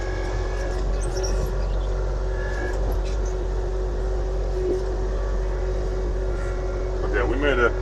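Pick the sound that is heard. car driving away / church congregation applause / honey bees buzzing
car driving away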